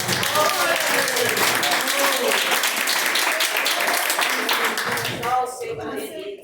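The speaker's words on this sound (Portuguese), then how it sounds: "Pode aplaudir o nome do Senhor" A church congregation claps together in praise, a dense, loud burst of applause that carries on steadily, with a voice calling out over it before the clapping thins near the end.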